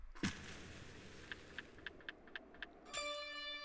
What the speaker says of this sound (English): Bells. Ding!